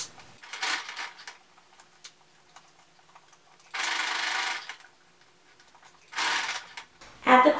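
A sewing machine runs a seam on a clear vinyl tote in short separate bursts, each a few seconds of close mechanical whir, with quiet gaps between and a faint tick near the end.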